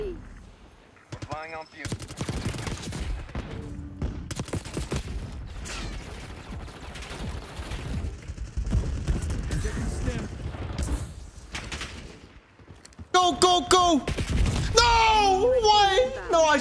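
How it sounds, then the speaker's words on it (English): Hand cannon fire and other gunshots in the video game Black Ops 6, scattered bursts through a match with a player talking throughout and a louder flurry of shots near the end. "I think the enemy just had a hand cannon"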